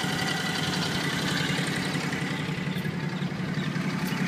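A John Deere X475 lawn tractor with only 63 hours on it idles steadily close by, its engine giving a continuous, even rumble with no talking over it.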